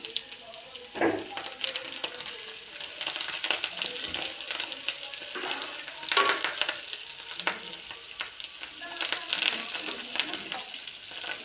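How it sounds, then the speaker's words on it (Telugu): Curry leaves crackle and sizzle in hot oil alongside frying chicken, a continuous busy spatter with stirring scrapes and occasional louder pops, and a voice talks faintly over it at times. "కొంచెం కరివేపాకు కూడా వేసుకుందాం"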